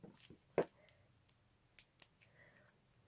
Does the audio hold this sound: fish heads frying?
no